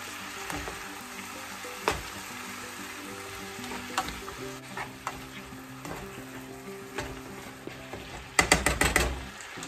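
Ingredients stirred into a gluten-free green bean casserole, with a steady close sizzle and repeated scraping strokes of a utensil, ending in a quick burst of louder clinks and scrapes; no talking.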